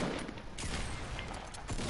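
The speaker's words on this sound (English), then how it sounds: "I hear gunshots" Gunfire in the video game Fortnite, a brief burst of rapid shots heard faintly in the distance with no talking over it.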